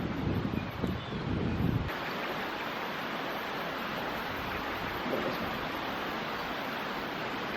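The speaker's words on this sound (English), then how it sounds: "once that wind stops" Wind gusting outdoors at a creek during fly fishing in New Zealand, a faint steady rushing broadband noise with a stronger buffet in the first two seconds.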